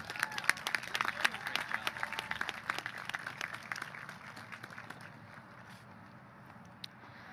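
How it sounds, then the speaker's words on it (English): An audience at a graduation ceremony claps in a lively burst of many hands, loud at first and then thinning and fading to a few scattered claps over several seconds. "Everyone, a round of applause."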